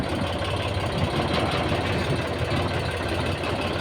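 A tractor engine runs steadily at an earth pit, a loud continuous low rumble with a rough knocking throb and no pauses throughout.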